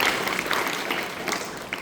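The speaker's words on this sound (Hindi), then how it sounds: "जोरदार तालियों से उसका स्वागत होना चाहिए" A school audience gives a loud round of applause welcoming a student, heard as a steady, somewhat distant wash of clapping from many hands.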